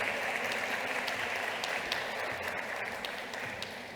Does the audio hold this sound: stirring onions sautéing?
no